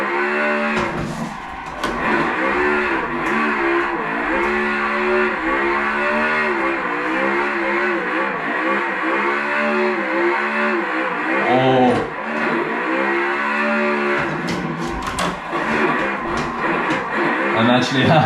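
A Ford Mustang RTR in a drifting simulator game on the streets of Long Beach, shifting from second to fourth through a chicane, its engine revving loud with rising and falling harmonic sweeps, while someone talks over it.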